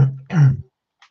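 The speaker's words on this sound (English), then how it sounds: "excuse me for coughing" A single harsh throat-rattling cough from a man with a frog in his throat, close and loud, followed by a short faint breathy sound.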